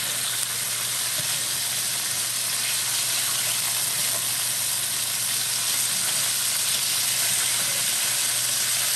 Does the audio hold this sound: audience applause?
no